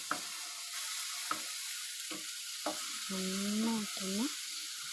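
Cut banana fries in ghee with a constant close sizzle, broken by a few spoon scrapes against the pan; a voice briefly speaks or hums near the end.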